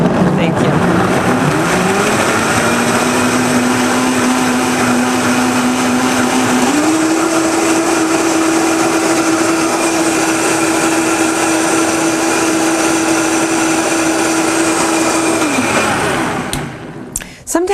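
A kitchen blender whirs steadily while blending apple for juice. Its motor pitch steps up partway through, holds a loud, even drone, then cuts off near the end.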